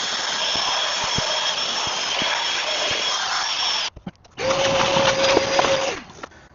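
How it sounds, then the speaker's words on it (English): A drill-driven wire brush scrubs rust off a bus's entry steps, a steady loud grinding whir that cuts out briefly near four seconds, then resumes with a higher whining tone before trailing off. "we're going to use a drill brush and a little wire brush to try and get some of this additional stuff off"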